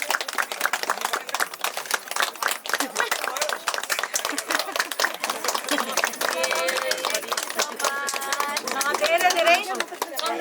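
An audience at a Nepali wedding gathering in Gorkha claps in a dense, continuous patter, with voices and lively chatter mixed through it.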